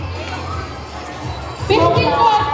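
A crowd of fans at a BTS fan meet-up in an SM mall in Cabanatuan City breaks into loud shouting and cheering after a quieter stretch with some talk.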